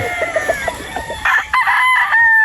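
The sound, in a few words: rooster crowing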